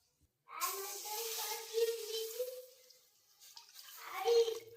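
Water is poured into hot oil in a pan holding roasted red chutney, for a traditional dried chickpea-leaf vegetable dish, giving a sudden hissing rush that fades, then swells again briefly near the end.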